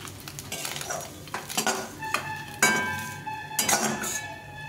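Metal spatula scraping and clinking against a pan while fried Morola fish are lifted out, a few bursts of scraping and clanking close up with faint sizzle beneath, no talk.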